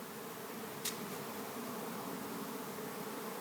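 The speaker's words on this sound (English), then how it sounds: "The bees are completely around me, not touching me, not harming me at all." A docile swarm of honeybees hums softly around a beekeeper during a live swarm capture, a faint, even buzz with one brief closer tick and no speech.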